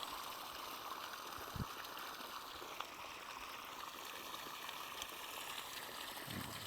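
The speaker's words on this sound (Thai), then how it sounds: "น้ำไหลใช้ได้เลยนะฮะ" Water pumped by a solar-powered pump flows out of a pipe in a quiet, continuous trickling stream, faint and steady with no talking.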